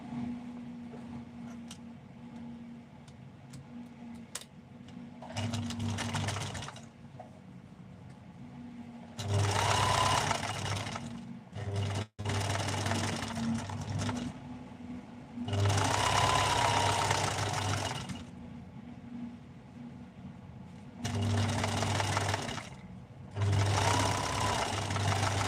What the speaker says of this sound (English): And then we're just going to sew it on that right around